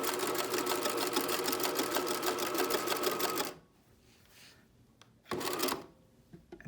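A sewing machine runs a fast, steady stitch while back tacking on a Banksia bralette, stops abruptly partway through, then gives a short second burst of stitching after a pause.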